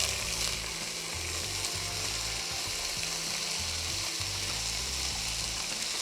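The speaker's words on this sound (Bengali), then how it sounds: "রাইসটা দিয়ে কি আমরা বেশ খানিকটা সময় একটু নেড়ে ছেড়ে ভেজে নেব চালটাকে?" Boiled rice fries in ghee in a pan while being stirred for basanti pulao, a steady close sizzle with repeated scraping and stirring strokes and no voices.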